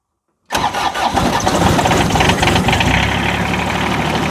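John Deere 755 compact tractor with a three-glow-plug diesel engine cold starting: a sudden loud catch after silence, then a rough, clattering idle that settles into a steady knocking rumble.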